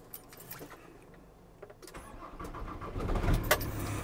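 A VW T4 2.5 turbo diesel van with a blowing exhaust cranks briefly after some key clicks, then catches and fires into a rough, rising idle that grows louder and close.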